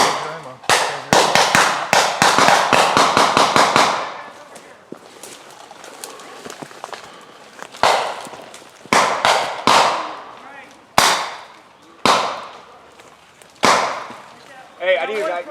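Sharp gunshots in a tactical shooting drill during a leaders course, a rapid burst of closely spaced shots followed by scattered single reports with echoing decay, near and loud.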